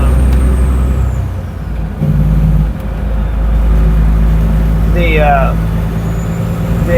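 A semi-truck rolls along a rough, dip-filled road with a loud, low engine rumble and road noise, steady throughout, with a brief chirping sound midway.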